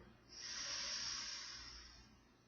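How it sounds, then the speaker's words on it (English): A long, slow, airy inhale during a guided meditation, a soft breathy hiss that swells and fades over about two seconds, close and quiet. "take a deep inhale in"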